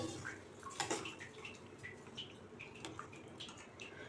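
Water is poured and stirred into a simmering Tamil-style garlic curry made with garlic, small onions and fenugreek, giving a soft continuous splashing and trickling with faint clinks, close and quiet, with no talking.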